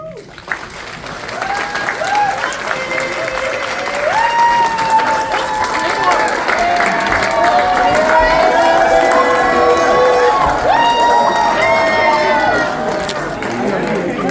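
Wedding guests standing in a church assembly applaud the newly married couple, a sustained, full clapping crowd with cheers and shouts, while a voice speaks and sings over it throughout.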